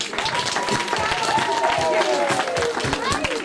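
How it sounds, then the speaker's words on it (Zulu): Wedding guests applaud the pastor, with a burst of steady clapping from a crowd over lively singing voices and chatter. "Ashayele umfundisi elikhulu ihlombe."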